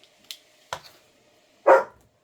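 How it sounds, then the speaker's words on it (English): A household dog barks indoors: one sharp loud bark near the end, preceded by a couple of quieter yips and clicks in an otherwise quiet room. "You can't come in here and bark."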